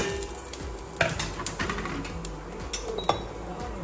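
Raw whole spices fry in olive oil for biryani with a busy sizzle, mixed with frequent stirring scrapes and light metallic clinks of utensils against the pan, nearby and moderately loud.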